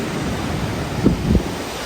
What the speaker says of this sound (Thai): คลื่นใหญ่ๆนะครับ คลื่นใหญ่